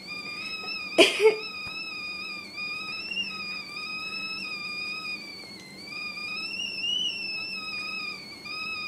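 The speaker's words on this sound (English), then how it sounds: "it just comes out to the front and makes a whistling noise" A kettle whistles steadily in a high, wavering tone for several seconds, with a short cough-like burst near the start.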